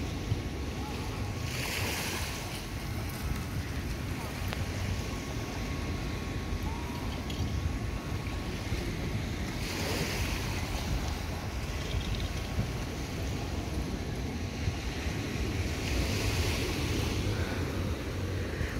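Calm sea waves wash gently onto the beach at Adler, Sochi, a faint, continuous soft surf with slow swells and light wind noise on the microphone.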